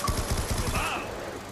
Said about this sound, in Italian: Ah, se volete ragazzi potete anche spararli.